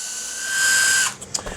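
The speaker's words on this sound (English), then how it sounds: "you just literally slot them into any drill, or this is an impact driver, which is the best way to use it" An impact driver spins a foam smoothing spinner with a high, steady whine for about a second, then stops abruptly, followed by a few faint clicks and knocks.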